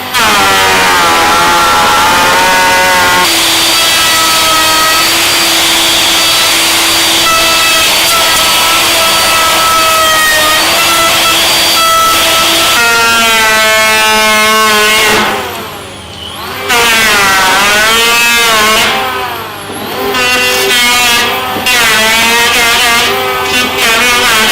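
An electric planer runs on wood with a loud, sustained motor whine whose pitch dips and wavers several times as the blade bites under load, then recovers.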